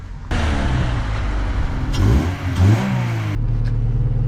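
A Honda Civic Si engine with a newly installed PLM header cranks and catches, then idles with a steady low rumble and a couple of brief revs before cutting off.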